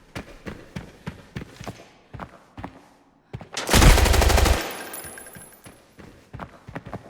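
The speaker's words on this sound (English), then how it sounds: "That's the sound of his bullet hitting my RPK shield and the shield fully tanking it." Gunfire in Arena Breakout video game, with a bullet pinging off an RPK shield: a dense burst of sharp shots cuts in midway, preceded and followed by sparse footsteps and clanks.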